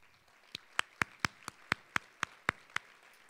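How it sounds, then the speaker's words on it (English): At a charity lunch event, about ten sharp, evenly spaced hand claps ring out in a slow, steady rhythm, crisp and close against a quiet room background. "I would like everyone to give you a round of applause"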